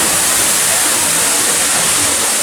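Waterfall in the Pandora area of Disney's Animal Kingdom, a steady, loud broadband roar of falling water that fills the clip without pause and with no voices.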